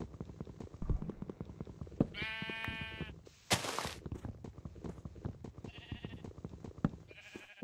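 Sheep in the video game Minecraft let out several short, clear bleats, one long and a couple shorter, over a steady patter of blocky footsteps.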